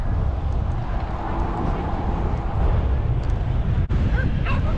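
Dogs yip and bark over loud background noise, mixed with whimpering and some voices nearby.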